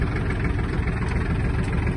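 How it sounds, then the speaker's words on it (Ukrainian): Iseki TG-253 Japanese mini tractor engine idling as it warms up, a steady, close, low diesel-like rumble with constant vibration throughout and no voices. "Поки тракторець прогрівається"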